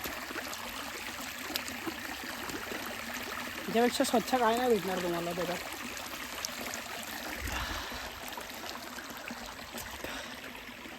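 Clear natural stream water flows and trickles softly in the jungle near Manikgad Fort, a low, continuous burble beneath someone speaking.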